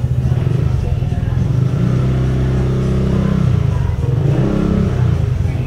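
A motorcycle engine idles and revs close by in an open-air parking area at a resort entrance, a steady mid-low rumble with slight throttle swells, while people talk over it.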